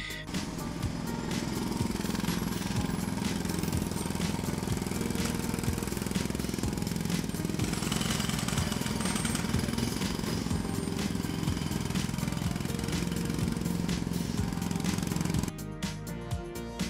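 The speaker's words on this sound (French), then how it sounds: "j'utilise pas le perforateur, j'utilise juste en mode perçage, et donc du coup bah, ça marche vachement moins bien" An electric drill set to plain drill mode, not hammer, bores holes into a wall, giving a loud, continuous grinding roar that holds steady for about fifteen seconds before cutting off near the end.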